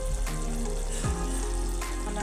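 Tomato puree for methi chicken cooks in a pan with a steady, dense bubbling sizzle close by, broken by a few brief stirring scrapes; no voices.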